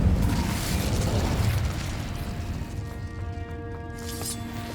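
A fiery Incendio spell blast from Hogwarts Legacy bursts out loud at the start. It is followed by a rumbling crackle and then faint tonal game effects that ring out as the blast fades.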